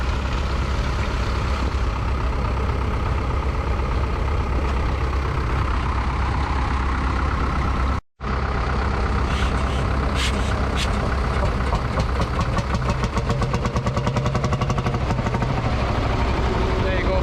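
A vintage tractor engine at the Kirriemuir agricultural show runs close and loud, a steady heavy chugging with a brief cut in the middle, then faster rhythmic knocking towards the end.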